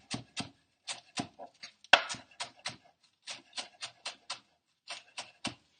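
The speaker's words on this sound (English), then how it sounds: "And just chop, chop, chop." Knife chopping green onions on a cutting board, a quick run of about fifteen crisp, close knocks in small bursts with brief pauses, with no talking.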